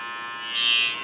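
A detachable hair clipper buzzes close and steady through a fade haircut, its whine swelling slightly louder midway, with no talking.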